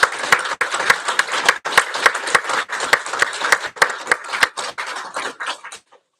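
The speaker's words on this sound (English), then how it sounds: "Please join me in a round of applause for our students' accomplishments." A graduation audience gives a sustained round of applause, with dense, steady hand-clapping filling the hall before it tapers off and stops.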